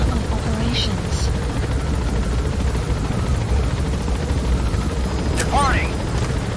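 Helicopter in the video game Metal Gear Solid V gaining altitude and departing, a steady loud rotor drone filling the whole clip with a brief higher whine near the end.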